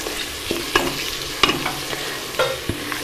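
Sliced onions with cinnamon pieces, cloves and black cardamom frying in oil in a pot for zeera rice, a loud steady sizzle broken by sharp spoon clanks and scrapes as the mix is stirred.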